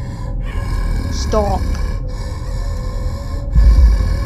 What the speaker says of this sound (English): Someone's breathing in my ear again.